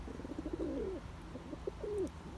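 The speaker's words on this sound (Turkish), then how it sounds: "kuşlar meşhur Şarampolu Cengiz Kılıç abimin kuşları" Soft pigeon coos repeat at a slow, rolling pace, fairly close, over a steady low background hum.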